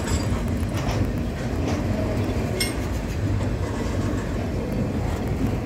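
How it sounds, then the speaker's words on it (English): A loud, steady rumble of a passing freight train at the Bluescope yard in Hastings, with rolling wheels and occasional clanks running throughout. "while the train's going past"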